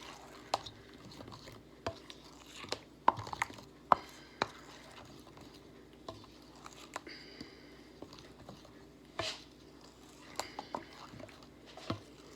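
A spoon mixes homemade applesauce in a bowl. Soft, wet squishes and light taps come sparsely and irregularly, close and quiet, with no talking.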